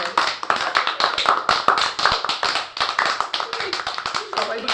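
Students in a classroom or school hall applaud a best-student-of-the-year award winner, a dense, steady burst of many hands clapping close by for several seconds, with some voices mixed in.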